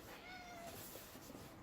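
A cat meows insistently nearby, wanting into a box, with a drawn-out, rising cry early on, followed by softer shuffling at low level.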